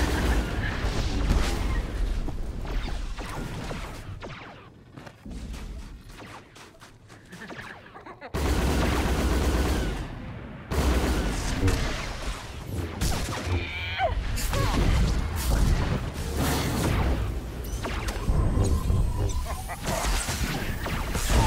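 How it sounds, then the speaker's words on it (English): Artillery fire and battle explosions in Star Wars: The Old Republic PvP combat on Alderaan, with repeated booms, crashes and blaster-like bursts running loud and dense throughout, and voices speaking over the fighting. "Artillery firing on your ship,"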